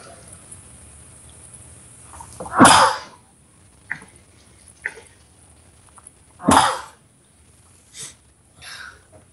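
Two sharp, loud sneezes burst out a few seconds apart indoors, followed by several smaller sniffs and snorts, with a quiet background between them.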